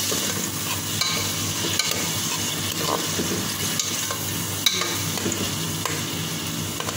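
Vegetables sizzle and fry loudly in a pan for pinakbet with bagoong, a dense steady crackle close up, with scattered stirring scrapes and clinks throughout and no voices.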